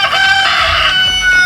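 Chickens on a farm cluck and crow loudly and continuously, a close, dense flock sound with no talking over it.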